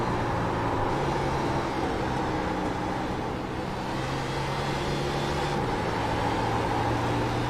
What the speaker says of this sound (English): That is something I never thought I'd hear at Iowa Speedway, is shifting down to 3rd gear.